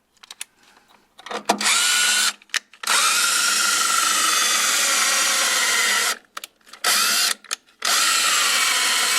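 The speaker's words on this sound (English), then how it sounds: "So we're gonna scrape this off, sand this down." A handheld power tool works rusty metal on a 1993 Ford Mustang GT during a Panhard bar installation. It whines loudly in several bursts of a few seconds each, separated by short pauses and small clicks.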